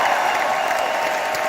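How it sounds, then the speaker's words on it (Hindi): Loud, dense applause from an audience at an award function, a steady wash of clapping with no voices on top. "एक बार जोरदार तालियां"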